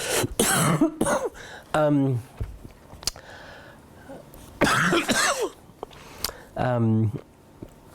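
Someone talks in bursts, interrupted by a few short, sharp coughs close to the microphone.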